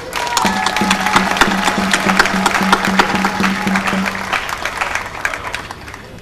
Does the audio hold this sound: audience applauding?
yes